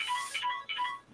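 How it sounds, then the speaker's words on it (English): A phone ringtone chimes twice in a quick repeating electronic pattern, close and fairly loud, with no talk over it. "It's your phone."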